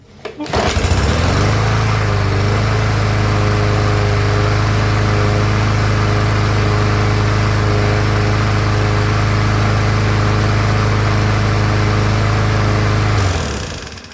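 A Yard Machine push lawn mower engine, with a freshly cleaned carburetor, starts up and settles into a steady, loud, continuous running drone close by, then cuts off near the end.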